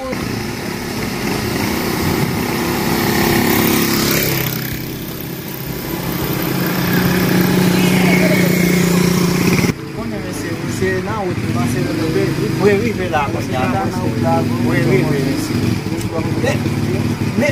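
A motorcycle engine runs nearby with a steady buzzing drone that rises and falls in intensity, while several people talk loudly over it.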